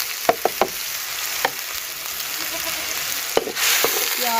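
Onions fry in ghee with a steady sizzle, broken by a few sharp clicks and scrapes of stirring, and the sizzle grows louder near the end.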